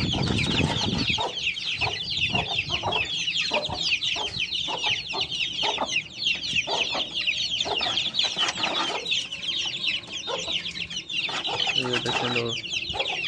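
Hens cluck continuously among chicks, a dense close chorus of cackles and high chirping peeps with a steady rhythm, and a brief voice speaks at the start.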